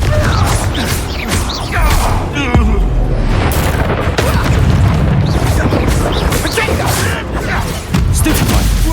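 Confringo and Incendio spells exploding during combat in Hogwarts Legacy, a loud, dense stretch of booming blasts, crackling impacts and clattering debris that runs almost continuously, with a sharp burst near the middle and voices shouting over the fight.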